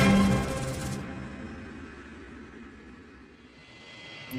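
A jet airliner departing Heathrow airport gives a broad, steady roar that is loudest at the start and then eases into a sustained rumble as it moves away, heard alone with no talking.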